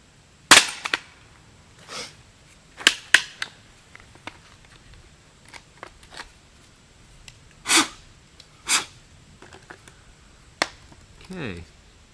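A CSA vz. 58 rifle fired outdoors, several sharp reports spaced irregularly with quieter clicks and handling noises between them, and a person speaking in places.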